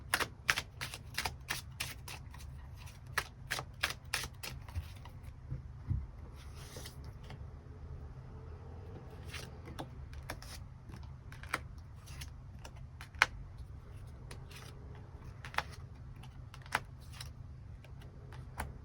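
Tarot cards being shuffled and drawn during a love-fortune reading, a steady run of soft, crisp clicks and riffles close up, some quicker bursts and scattered taps over a quiet background with no talking.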